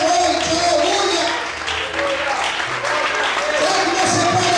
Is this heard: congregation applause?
yes